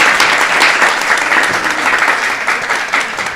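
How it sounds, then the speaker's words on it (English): A gathering at a Vyasa puja celebration gives a woman a loud, dense round of applause that holds steady throughout with no talking over it. "Let's give her a round of applause for that as well."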